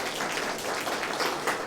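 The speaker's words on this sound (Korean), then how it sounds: "우리 사모님 박수로 여러분들 환영하시고" A church congregation bursts into dense, steady applause to welcome a visiting pastor's wife during a Sunday service, the clapping loud and continuous throughout with no talk over it.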